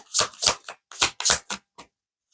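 Tarot cards being drawn from a deck: a series of about eight quick papery slides and flicks in an irregular rhythm, close and crisp, with no talk over them.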